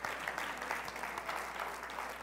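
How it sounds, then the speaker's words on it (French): Audience applause fills a church or faith gathering, steady dense clapping from a crowd at moderate level with no talk over it. "Et on l'applaudit encore."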